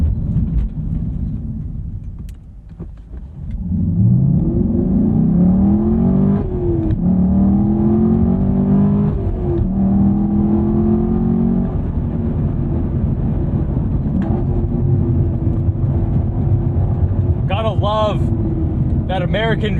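A Chevrolet Camaro SS 1LE V8 roars under hard acceleration from inside the cabin, its loud, steady rumble climbing in pitch through the revs with a brief dip at a gear change and a few light clicks near the end.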